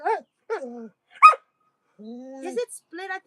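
A dog with a split at the front of its lip barks and whimpers in a few short, close bursts with gaps between them, alongside voiced, whiny vocal sounds.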